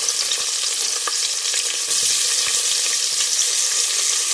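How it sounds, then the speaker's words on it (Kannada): Crushed garlic and onion fry in hot oil for sambar, a dense, continuous sizzle with scattered pops and crackles that holds loud and even throughout, with no voices. "ಇದನ್ನ ಚೆನ್ನಾಗಿ ಫ್ರೈ ಮಾಡ್ಕೊಳ್ಳಿ ಫ್ರೆಂಡ್ಸ್."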